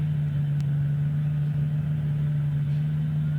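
Drift cars, a BMW and a Chevy, compete in a professional drift series battle, giving a steady, loud low engine drone that holds constant throughout with no clear revving peaks.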